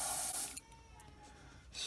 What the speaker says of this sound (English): I'll spray this little stripe first.